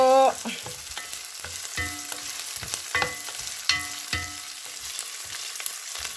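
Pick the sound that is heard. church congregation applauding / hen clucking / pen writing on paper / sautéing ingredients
sautéing ingredients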